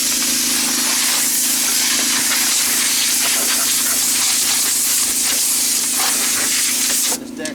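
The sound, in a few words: cleaning off a riding mower deck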